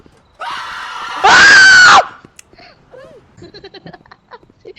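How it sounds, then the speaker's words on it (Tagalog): A loud, high-pitched scream bursts out for about a second while playing the Roblox horror game Close Your Eyes, followed by quieter scattered voices and chatter. "Sino ba yung sumigaw kanina?"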